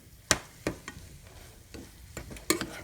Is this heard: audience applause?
no